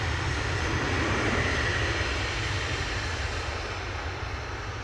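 A Jet2 Boeing 737 taking off for Izmir, its jet engines producing a loud, steady broadband roar that holds evenly and eases slightly toward the end.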